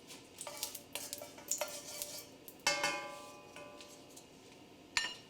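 Fried potatoes and ghee are stirred in a pan for Bengali dal khichuri, with a run of light metallic clinks and scrapes from a spoon against the pan and a faint sizzle underneath, close and fairly quiet.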